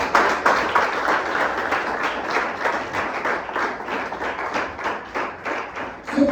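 A church congregation applauding and cheering for Jesus Christ, sustained rhythmic clapping from a large crowd that continues steadily throughout, loud and close.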